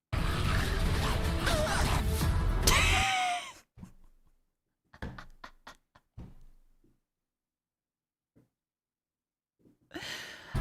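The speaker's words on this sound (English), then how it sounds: "it's incredibly funny that a Gmod ragdoll hitting someone's sound effect sounds like this" Ragdoll hit sound effect from the video game Garry's Mod: a dense, loud burst of layered game noise with a breathy, sighing quality lasting a few seconds, followed by sparse soft knocks and quiet gaps.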